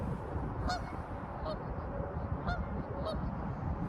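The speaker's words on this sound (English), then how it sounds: "Ducks or geese. I think they're geese." Geese honk several times at a distance by a lake, scattered calls over steady outdoor background noise.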